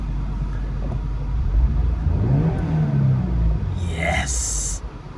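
A 2023 Subaru BRZ Premium accelerates hard with traction control switched off. The engine note rises and rumbles close by, then a high whine cuts in near the end while a person speaks over it.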